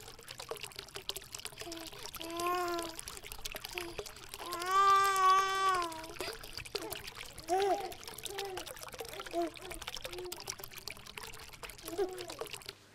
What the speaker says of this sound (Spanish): Abro el grifo. Y ya sale el agua,